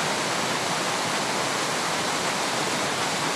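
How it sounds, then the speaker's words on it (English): Floodwater rushes out of the spillway at Los Padres Dam on the Carmel River, a loud, unbroken roaring torrent that fills the whole stretch without any voices. "Water was screaming out of the spillway at Los Padres Dam."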